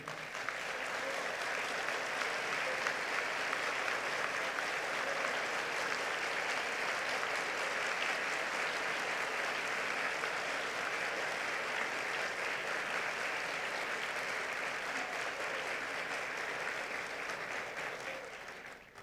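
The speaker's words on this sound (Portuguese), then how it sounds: "as palmas são muito merecidas, ministra Carmen Lúcia" A large audience at the opening of a Brazilian broadcasting congress applauds Minister Cármen Lúcia with sustained, dense clapping that stays even and full for the whole stretch before tapering slightly at the end.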